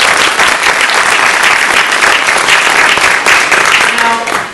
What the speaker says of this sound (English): I'd like to give a big round of applause.